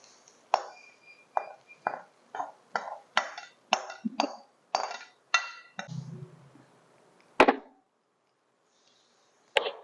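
Onion tempering is tipped from a pan into cooked, mashed amaranth greens in a home kitchen. About a dozen close metallic clinks and taps of a spoon against the vessel come in a loose rhythm, followed by a soft scrape and a final knock.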